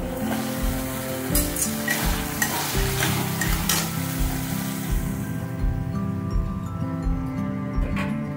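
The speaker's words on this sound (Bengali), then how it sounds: "এবার আমি এই কেটে রাখা ডাঁটাগুলো দিয়ে দেবো।" Chopped vegetable stalks go into a pan of spices already cooked down, frying with a close, steady sizzle under repeated scraping stirs in a loose rhythm, with no one talking.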